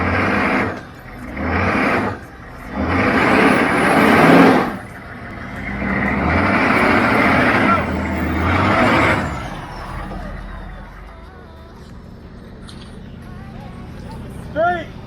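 An off-road rig grinding through rough terrain at Badlands Off Road Park in Indiana, its engine surging and dropping in heavy rumbling bursts, then idling lower as people talk nearby.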